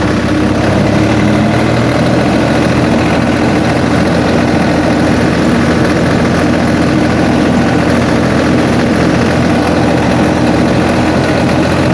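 Tractor engine idles steadily on a farm field, a loud, continuous low rumble and vibration throughout with no talk.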